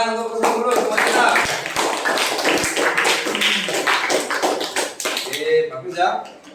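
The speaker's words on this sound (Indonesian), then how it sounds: "tepuk tangan untuk Husnul Khuluq teman kita" Students in a classroom break into brisk applause for a quiz winner, a dense, continuous patter of clapping with a teacher's voice talking over it throughout.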